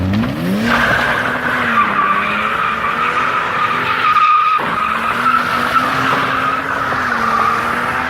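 A 150 hp BMW E36 320 with a welded differential and no handbrake drifts, its tires skidding and squealing loudly and continuously over a revving engine, with the pitch sliding and dipping as the car swings through the slide.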